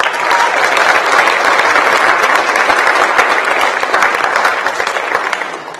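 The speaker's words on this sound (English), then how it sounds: "Round of applause to all of our finalists." Loud, dense applause from an audience at an eighth grade academic awards ceremony, many hands clapping steadily for the finalists and tapering slightly at the end.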